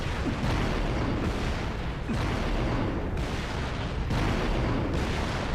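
A Halo Reach vehicle boosting and firing miniature Wraith bullets in the video game: a dense, continuous roar layered with repeated heavy booming shots, loud and unbroken throughout.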